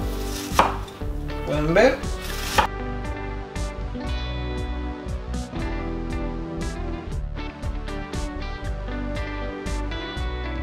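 A knife chops shrimp on a cutting board in a steady run of crisp, close strikes. A brief voice speaks near the start.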